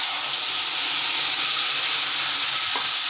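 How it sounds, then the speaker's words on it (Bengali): Ground spice paste added to hot oil in a pan with whole garam masala, bay leaf, cumin and chilli, giving a loud, steady, close sizzle that hisses continuously without pause. "এবার এর মধ্যে আমি মশলা দেব"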